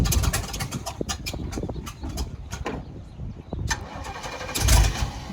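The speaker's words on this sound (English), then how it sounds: "So go ahead and fire it up, buddy," An old big-block V8 in an abandoned RV cranks and catches, its rough, uneven engine rumble churning continuously up close, with the cranking swelling louder near the end; no talking is heard.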